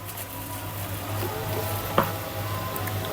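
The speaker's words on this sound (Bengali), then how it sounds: "আদা রসুন বাটা দিয়ে দুই তিন মিনিট ভেজে নেব" Onion fries with ginger-garlic paste, turmeric, salt and chili powder in a pan, making a steady close sizzle with a low hum underneath and a single light utensil clink partway through.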